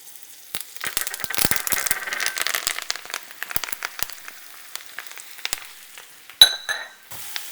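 Mushrooms cook in oil and butter in a pan, giving a soft, crackling sizzle with scattered pops and light stirring rattles, fairly quiet and continuous, ending with a brief sharp clink.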